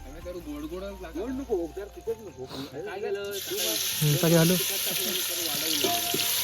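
Onions fry in hot oil in a pan, a steady sizzle and hiss that grows louder and brighter partway through, with people talking over it.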